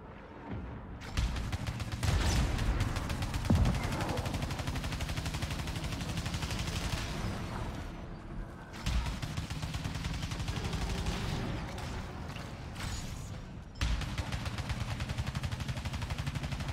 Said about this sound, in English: These assholes shooting at me over here.